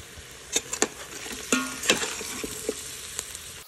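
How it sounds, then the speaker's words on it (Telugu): Carrot frying in a pan with fresh coconut and mint, a steady close sizzle broken by scattered clicks and scrapes of stirring, no voices. "క్యారెట్ లిటిల్ బిట్ కుక్ అయిన తర్వాత పచ్చి కొబ్బరి పుదీనా వేసి ఫ్రై చేసుకోవాలి"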